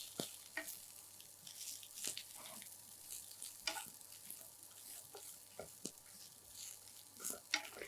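Shredded cabbage added to sautéed onion in a pan gives a faint, soft sizzle with scattered light stirring scrapes and clinks, quiet and close throughout.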